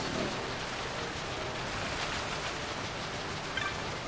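Rain falls in the Final Fantasy 12 The Zodiac Age video game, a steady, even hiss that holds without a break and has no talking over it.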